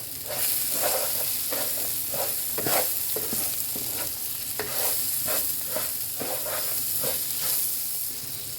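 Vermicelli frying in butter sizzles steadily in a pan while a utensil stirs it in repeated scraping strokes, close and fairly loud, with no voices.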